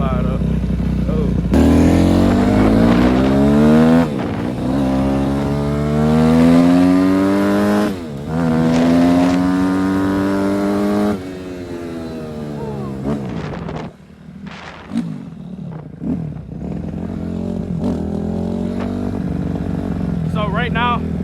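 A loud, close Kawasaki KX250F dirt bike engine warms up and revs repeatedly, its pitch sweeping up and down between rough idling stretches.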